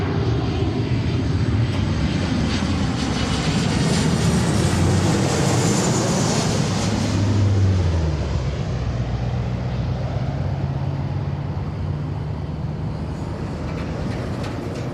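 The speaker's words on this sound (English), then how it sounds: "So here's our flight from Anchorage. 737, 700." A Boeing 737-700 arriving from Anchorage on approach to Seattle runway 34L roars past, a loud sustained jet rumble with a rising and falling whine as it passes and fades slowly.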